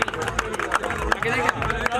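A village welcome crowd clapping for boxer Tamanna, a loud burst of applause with rhythmic claps mixed with a voice speaking over it.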